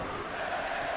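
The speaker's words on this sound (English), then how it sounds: "Man, the crowd here in Cleveland, Ohio is going insane for Rusev." Arena crowd in Cleveland, Ohio roaring for wrestler Rusev during a WWE 2K19 match, a dense steady wash of cheering at moderate level with no distinct voices.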